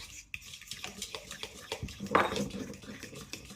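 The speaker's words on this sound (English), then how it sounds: "I'm going to stir that in and get it mixed up" Sugar is stirred into mashed banana in a bowl for muffin batter, a soft, rhythmic scraping and squishing with a sharper clink of the utensil partway through, close and quiet.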